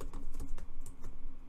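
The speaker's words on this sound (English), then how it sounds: "Now let's just say I type in whatever" Quick, irregular clicking of keys on a computer keyboard while text is typed into desktop wallet software, close and steady for a moment with no voices.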